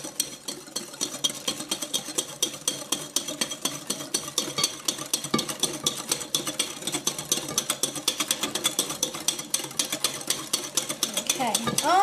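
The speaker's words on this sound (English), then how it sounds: "want to start pouring in your cream very slowly because you will scramble the eggs" Cream poured slowly into eggs for creme brulee while a whisk or spoon stirs steadily in a bowl, making a dense, continuous rapid clicking and scraping close up throughout.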